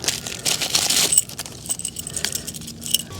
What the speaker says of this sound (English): Now I also have this little bearing race kit.